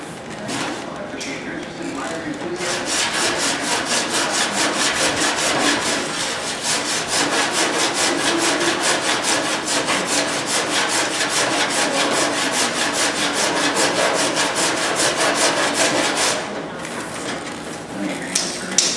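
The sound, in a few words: rubbing out file marks on metal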